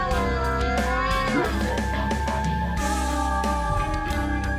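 A cartoon cat meows in a Hindi horror cartoon, drawn-out tones that bend up and down in pitch over a loud, steady bed of background music.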